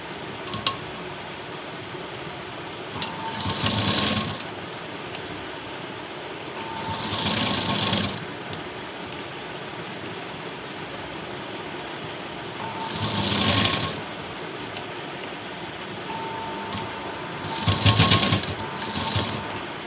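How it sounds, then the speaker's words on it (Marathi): A sewing machine stitches piping onto fabric in several short runs of rapid mechanical stitching, separated by quieter pauses over a steady low hum. "तर पहा मी किती थोड्या थोड्या अंतरावरती शिलाई घेते."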